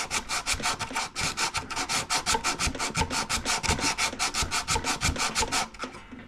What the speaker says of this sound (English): sand this down just a little bit